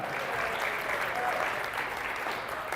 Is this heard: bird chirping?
no